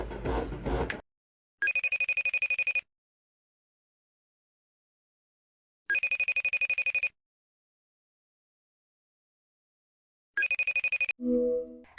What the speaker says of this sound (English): You have an incoming call, girl. Answer the phone.